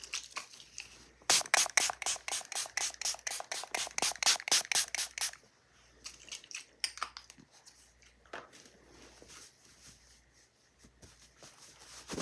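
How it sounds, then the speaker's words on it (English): A cleansing spray for makeup prep is pumped close-up in a rapid, regular series of about eighteen short, crisp spritzes, followed by quieter scattered handling noises. "I'm just still going to go in with a little bit of cleansing spray."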